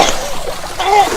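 A scuba diver jumps into the water at an amusement park with a loud close splash, followed by sloshing, and voices are heard around it.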